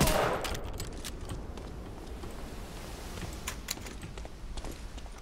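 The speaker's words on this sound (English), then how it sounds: "I know when you put a machine gun in a bunker like that" Machine gun fire from a bunker in Medal of Honor: Allied Assault, a dense continuous rattle of rapid shots lasting the whole stretch, loud and close at first and then steady in the distance.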